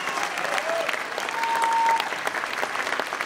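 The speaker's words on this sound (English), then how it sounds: "Give him a big round of applause" A crowd claps steadily and loudly, sustained applause with a faint voice rising briefly through it.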